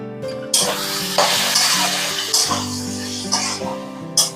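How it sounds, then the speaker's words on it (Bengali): Chicken and potatoes stir-frying in oil in a pan, with a steady sizzle broken by scraping strokes of a spatula every second or so, close and loud. "চিকেনটা দিয়ে এটাকে খুব ভালো করে কষো, যেরকম মা করছে।"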